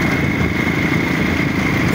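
A motorcycle engine runs steadily nearby, giving a loud, continuous buzzing drone with no change in pace and no voices.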